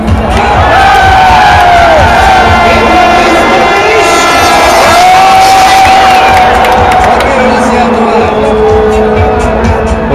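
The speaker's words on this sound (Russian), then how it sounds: "Вот так вот заводят толпу, разогревают перед футбольным матчем." A football crowd before a World Cup final match in Prague roars and cheers in a loud, continuous wash with rising chant-like shouts and whistles, voices mixed throughout.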